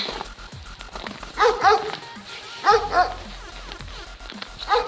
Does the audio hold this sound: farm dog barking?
yes